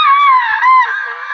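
A high-pitched, sustained scream rises and wavers close up, loud and strained, breaking slightly before trailing off.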